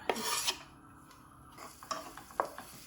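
Chopped onions go into a pan of hot oil and are stirred for a crispy kachori filling, giving scraping, rasping strokes of a spoon against the pan with a faint sizzle underneath, quiet and close.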